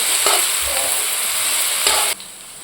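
Garlic goes into a pan of fried onions, giving a bright, close sizzle with a couple of stirring scrapes, and the sizzle softens near the end.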